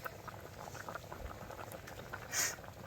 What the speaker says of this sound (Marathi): भात शिजत आला आहे